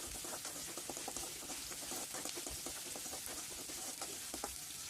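Small onions and chillies fry in hot oil for kaara chutney, a constant crackling sizzle with scattered sharp pops and light stirring scrapes, close and even throughout.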